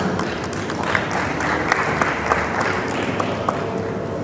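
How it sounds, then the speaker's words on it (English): Audience applause for conference panelists, a steady dense wash of clapping throughout with scattered sharper claps and a faint tone or whistle now and then. "A round of applause for them again, please."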